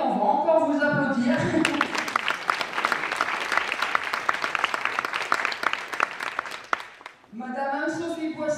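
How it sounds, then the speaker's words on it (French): A crowd at a Miss and Mister pageant evening applauds warmly for about five seconds, dense clapping that swells and then fades. A presenter talks before and after the clapping. "on va encore vous applaudir."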